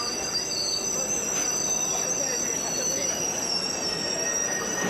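An RER B train runs at a crowded station platform, giving a loud, steady rolling rumble with high metallic wheel squeal held over the whole stretch.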